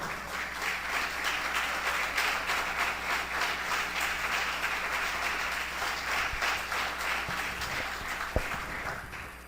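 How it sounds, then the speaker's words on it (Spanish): Church congregation giving a strong round of applause during a Spanish-language Bible study on Isaiah, brisk continuous clapping from many hands in a room, fairly even and sustained before tapering at the end. "Denle un fuerte aplauso al Señor."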